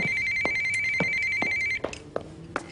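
A telephone rings in a French film scene, sounding a steady electronic tone with repeated clicks before the ringing stops partway through. Handling clicks follow the ring.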